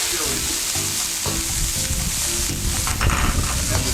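Hot chili peppers and chopped green onions sauté in oil with garlic and cooking wine for General Tso's chicken, giving a loud, dense, close sizzle with steady stirring and scraping throughout.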